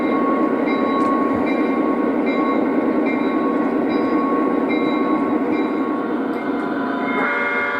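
An O gauge model train runs steadily on a layout with a continuous rumbling hum and tonal drone, loud and close throughout, with faint clicks and a slight shift near the end.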